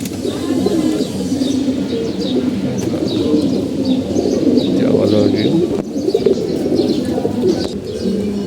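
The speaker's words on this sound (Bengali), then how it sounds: "এগুলো লাল গিয়ার কবুতর" Red gear pigeons cooing and calling in a loft, a steady layered murmur of coos with occasional chirps, close and continuous, while someone talks over them throughout.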